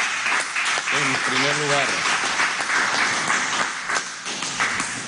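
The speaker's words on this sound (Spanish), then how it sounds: "Un aplauso" Applause at a Venezuela–Cuba cooperation agreement signing ceremony, steady clapping filling the room throughout while someone speaks over it.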